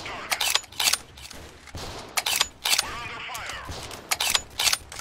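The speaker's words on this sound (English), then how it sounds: "I think those are our grenades that are going off" Grenades go off in Freeman: Guerrilla Warfare as a run of sharp, distant cracks and pops in irregular clusters, with quieter gaps of battlefield noise between them.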